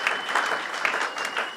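A church congregation claps steadily during a Sunday service, a dense, continuous wash of applause filling the hall at moderate loudness.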